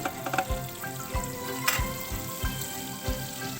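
Whole cardamom pods, a small piece of cinnamon and a bay leaf sizzle in melted butter for a butter masala gravy, with a steady frying hiss and several soft rhythmic pulses as the spices are stirred in the pan.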